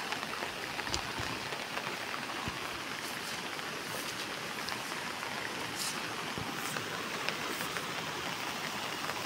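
Torrential rain falls in a village, a broad, even wash of hissing water with scattered sharper drips and splashes throughout, steady and fairly loud with no voices.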